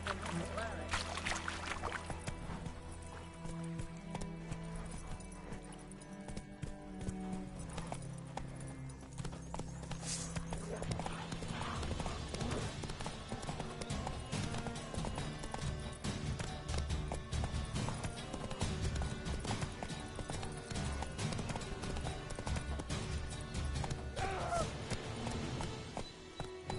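Roach the horse gallops in a video game, a dense, driving patter of hooves carrying on for nearly half a minute beneath a loud orchestral score.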